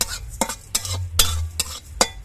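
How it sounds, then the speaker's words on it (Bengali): Spices frying in a pan are stirred with a spoon in a run of sharp scraping strokes, about six in two seconds, over a soft steady sizzle. "মশলাটা ভাজার সময় অনবরত নাড়তে হবে"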